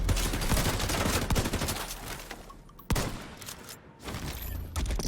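Shotgun fire in the video game The Division 2 during close-range combat. Loud, dense blasts follow each other rapidly through the first half, a sharp bang lands near the middle, and further shots come after a brief lull.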